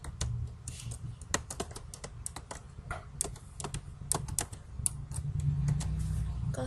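Rapid keystrokes on a computer keyboard as a search is typed into mapping software, an irregular clatter of clicks over a low steady hum, fairly close and with no talking.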